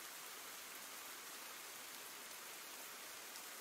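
Rain falls in the video game Ender Lilies as a faint, even hiss of steady downpour, continuous and alone, with no voices.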